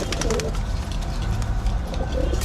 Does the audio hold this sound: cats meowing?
no